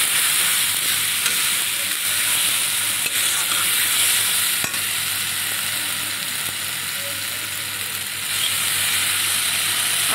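Masala with salt and turmeric sizzles and fries steadily in a pan while being stirred for an egg and small potato curry, a loud continuous hiss with occasional scraping, no voices.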